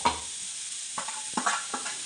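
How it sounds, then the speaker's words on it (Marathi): Chopped onion frying in a pan for masala methi gives a steady, soft sizzling hiss, with a few louder stirring bursts partway through. "आपला इकडे कांदा भाजतो आहे. तुम्हाला येतच असेल आवाज कांदा भाजतो."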